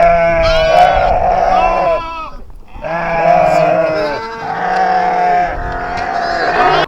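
Sheep and lambs bleating loudly and close, long overlapping wavering calls in several bursts with a brief lull in the middle.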